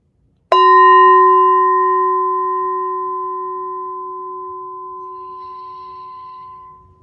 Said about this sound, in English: at the sound of my bell, allow your eyes to open very, very, very, very slowly